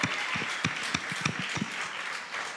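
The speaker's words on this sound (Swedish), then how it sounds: "Ska vi bara ge Jesus en extra applåd för alla de sakerna som han har gjort igår och som han har gjort idag." A church congregation gathered for an evening worship service claps, with scattered individual hand claps sounding fairly close over a dense, steady wash of applause throughout.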